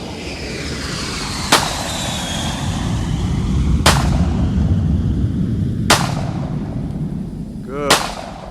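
Four loud, sharp gunshots fired at a target during weapons training at an outdoor range, evenly spaced about two seconds apart over a steady background rumble and breeze.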